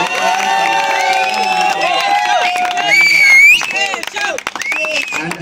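A crowd at a national parkour competition cheers and claps for a team member, with harmonic whoops and shouts layered over steady loud applause that swells briefly before breaking into scattered calls.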